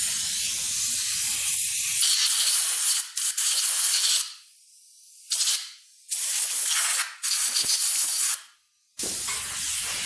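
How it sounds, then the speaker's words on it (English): Compressed air from a rubber-tipped blow nozzle clears the carburetor jets of a Honda CR250 dirt bike: several loud, close hissing blasts separated by brief pauses, with no talking. "then blow it out with an air compressor"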